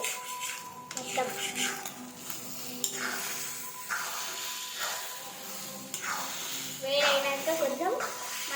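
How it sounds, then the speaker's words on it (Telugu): Food is stirred in a hot pan with repeated scraping and clinking of a utensil against the metal and a faint background hiss, while someone talks over it. "ఇప్పుడు కొంచెం వేడైనాక ఇలా మంచిగా కలుపుకోవాలి."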